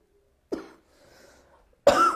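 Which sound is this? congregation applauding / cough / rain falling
cough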